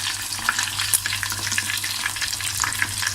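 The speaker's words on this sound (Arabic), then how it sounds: "بس يتحمروا يستووا بنشيلهم وبنحط بدالهم" Chicken wings deep-frying in hot oil give a steady, busy sizzle full of fine crackles and pops, close and continuous without any talk.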